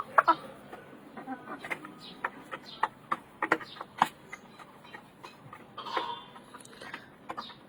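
Fayoumi chickens fighting on a farm, with scattered short clucks and sharp pecking ticks in an irregular burst pattern, fairly close but quiet, with no speech.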